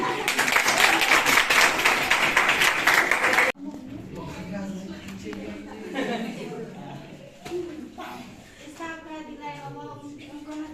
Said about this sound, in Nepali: ल ताली ताली।